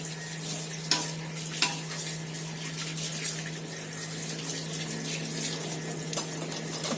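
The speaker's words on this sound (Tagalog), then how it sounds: "Tatapos na ako sa gawain. Hugas plato." Dishes being washed under a running kitchen tap, with steady flowing water and a low hum, plus a few clinks and clatters of plates and utensils nearby and no voices.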